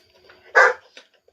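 A dog gives one sharp, loud bark close by, followed by a softer yip in an otherwise quiet room.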